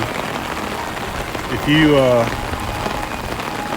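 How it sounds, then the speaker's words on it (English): Heavy rain falls steadily at Magic Kingdom, a dense close hiss of drops on surfaces, with someone speaking briefly over it. "It is really raining now."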